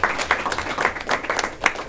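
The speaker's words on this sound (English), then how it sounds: "give them a round of applause for being here" An audience breaks into lively, uneven applause, with many hands clapping close and loud in bursting waves over a short stretch.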